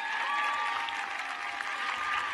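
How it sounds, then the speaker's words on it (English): A high school graduation audience claps in a steady, moderately loud burst of applause, fairly distant and even throughout the short stretch, with no voices on top. "Can we get one more round of applause for the Red Army and their five-star general, Evan Doherty?"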